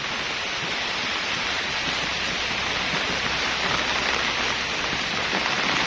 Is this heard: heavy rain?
yes